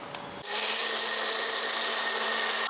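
An electric kitchen mixer grinder running steadily, milling a mix of ragi, wheat and raw rice into fine flour; a loud continuous whirring starts abruptly after a brief quiet moment and holds evenly with a steady motor whine.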